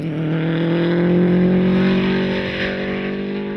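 A race car revving near the start line at a 2015 sprint series round, its engine held loud and steady with strong harmonic tones, the launch restrained by noise limits.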